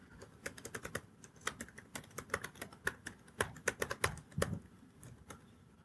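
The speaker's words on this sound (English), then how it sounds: "Faster to type it." Fast typing on a computer keyboard during a live conference demo, a quick irregular run of crisp close-up key clicks in bursts, with no talking.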